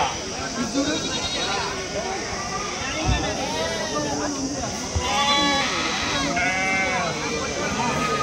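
Sheep bleat over and over at a busy sheep and goat market, several animals calling near and far, layered over steady crowd chatter and people talking close by.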